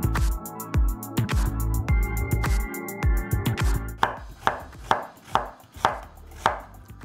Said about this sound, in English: let's slice our onion